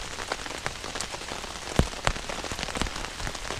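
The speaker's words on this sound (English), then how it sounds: "We're stuck under a tarp in the rain." Steady rain drums on a tarp shelter at a campsite during a thunderstorm, a dense, continuous patter with a few heavier drops smacking close by, and no voices.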